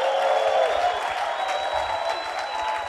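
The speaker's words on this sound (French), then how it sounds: "Clap your hands." A church congregation clapping hands together in a steady, dense round of applause that carries on throughout, with a faint voice and crowd murmur beneath.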